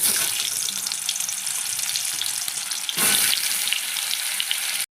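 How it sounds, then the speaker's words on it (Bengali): Slices of pointed gourd fry in hot oil with a dense, constant hiss of sizzling that swells louder around the midpoint and runs steadily close up until it cuts off. "তেলটা গরম হয়ে গেছে, এবার আমি পটলগুলো ছেড়ে দেবো"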